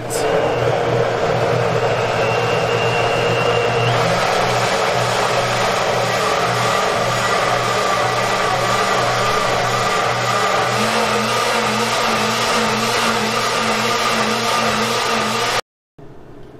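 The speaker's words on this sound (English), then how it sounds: "let's get started on the blending of the hot sauce" A blender runs continuously, blending chile piquin hot sauce with a loud steady motor whine whose pitch shifts slightly as the mixture smooths, then cuts off abruptly near the end.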